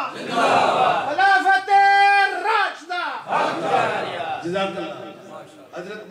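A large crowd at a religious conference on the honour of the Sahaba chants the Takbir slogan, with loud, drawn-out unison calls rising and falling in several waves.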